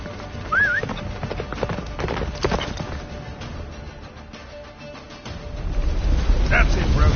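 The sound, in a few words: horse galloping in The Witcher 3 video game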